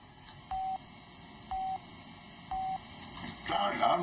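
Three computer-generated cochlear implant calibration beeps come one second apart, each a short clean tone in a quiet room, then rustling and faint voices build up at the end.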